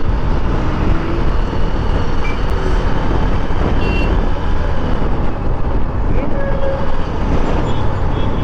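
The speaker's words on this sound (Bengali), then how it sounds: "দেখতে পাচ্ছেন ওই রুটে কীভাবে জ্যাম ধরেছে, এইভাবে জাম।" A road jammed with traffic, with a dense, continuous roar of idling and crawling vehicles close by, steady and loud throughout.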